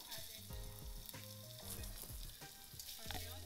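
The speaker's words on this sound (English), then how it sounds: "So I'm going to fry my garlic and ginger just for a minute." Steady crackling sizzle of garlic and ginger frying in a hot pan, with a tonal musical backing running underneath throughout.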